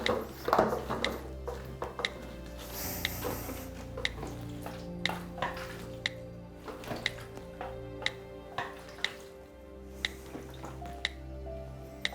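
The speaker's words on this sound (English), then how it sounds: "Tapping it to release any air bubbles." Repeated sharp taps on a film developing tank, knocked to free air bubbles, land at a steady, roughly one-per-second pace, close and fairly crisp over a low background hum with faint liquid sounds.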